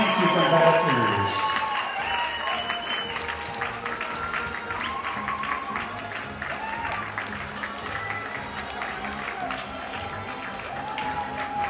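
Sustained audience applause fills a hall at a youth international Latin dance competition final, steady clapping with scattered cheers and a voice talking over it throughout.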